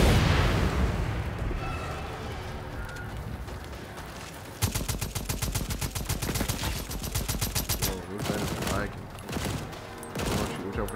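Explosions and rapid gunfire from the co-op video game Second Extinction, a loud blast followed by dense sustained automatic fire and more bursts, dominating the mix.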